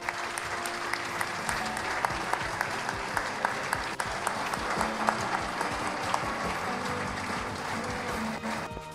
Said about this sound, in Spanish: Acompañamos también este momento con otro aplauso